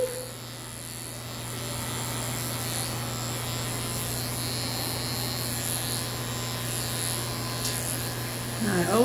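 Electric shaver trimming a senior Lhasa Apso's coat, a steady close buzzing hum running throughout with faint background noise and a brief louder rise at the end.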